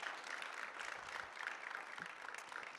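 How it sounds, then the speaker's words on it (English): A conference audience at a talk on AI and music applauds, a faint, distant, even wash of clapping running for a few seconds. "clap, please."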